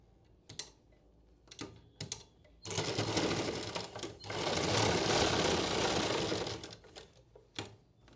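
A sewing machine stitches a blouse sleeve. A few short taps and bursts come first, then a loud, steady run of stitching lasts several seconds with a brief pause in the middle. A couple of sharp clicks follow once it stops.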